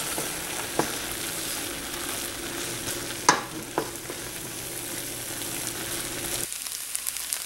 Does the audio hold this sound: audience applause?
no